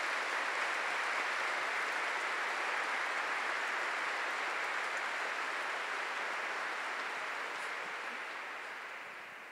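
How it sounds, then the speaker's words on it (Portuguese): Sustained applause from a congregation honouring priests at a Catholic funeral Mass for Monsignor Jonas Abib, a dense, even wash of clapping that tapers off slightly near the end. "Vamos dar uma salva de palmas para esses sacerdotes."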